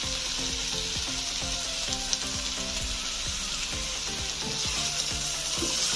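Spices, tomato and green chilli sautéing in a pan for a paneer and cauliflower curry: a loud, continuous close sizzle with a regular series of spatula scrapes and stirs throughout.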